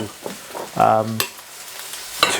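Rice tossed and stirred in a hot wok over high heat for vegetarian fried rice, giving short bursts of sizzle and scraping, loud and close, with pauses between strokes.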